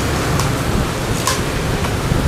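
Heavy rain pours down steadily at a Vietnamese durian orchard or depot, a dense, continuous hiss filling the whole clip with no voices.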